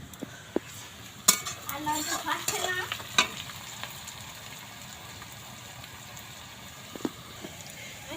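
Onions frying in mustard oil in a pan while being stirred, a soft sizzle with a burst of spatula scrapes and metal clinks early on, then quieter frying with occasional taps.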